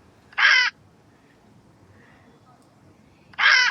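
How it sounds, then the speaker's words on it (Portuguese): A macaw gives two loud, harsh squawks a few seconds apart, with near silence between them and nothing else audible. "E agora o da arara."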